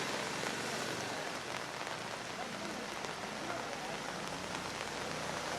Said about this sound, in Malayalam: കനത്ത മഴയാണ്.